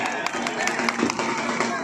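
Crowd clapping at an outdoor kushti wrestling ground in Shrigonda, a dense, steady patter of many hands close by, loud and continuous throughout, with voices mixed in underneath.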